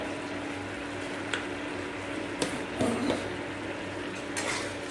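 Raw mango chutney being stirred in a pan: faint, sparse clinks and scrapes of a utensil against metal over a soft, steady background hiss, a few distinct taps spaced across the clip, no speech.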